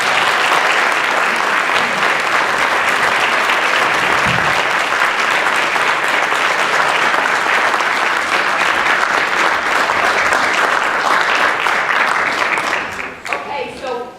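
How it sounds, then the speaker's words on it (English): Loud, sustained applause from a school board meeting audience honoring student musicians, including all-county chorus members, dense clapping throughout that thins out near the end. "Let's have a round of applause for our outstanding musicians"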